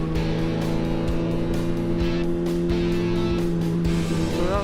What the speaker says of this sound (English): And my bike sounded funny. Yeah, it's chopping.